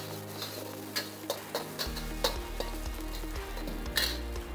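Eggs being stirred and fried in about 50–60 g of hot oil in a restaurant pan for fried rice, a steady close sizzle with a scatter of sharp utensil ticks and scrapes, no voices.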